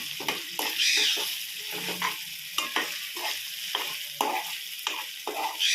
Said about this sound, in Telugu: తర్వాత కరివేపాకు పచ్చిమిరపకాయలు వేసుకోండి వీటిని లైట్గా వేగనివ్వండి కొంచెంసేపు వేగనివ్వాలి